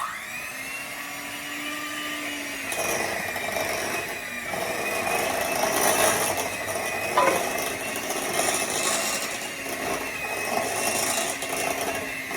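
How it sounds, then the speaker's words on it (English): A hand mixer whirs steadily through sweet potato casserole filling, a constant close motor hum with shifting tone and soft scraping as the beaters move through the thick mixture, with no talking. "And then we're going to take a hand mixer and blend it all together."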